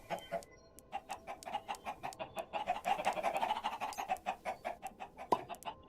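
Chickens in a video game cluck steadily in a rapid, rhythmic series of short calls, close and moderately loud, with no talking over them.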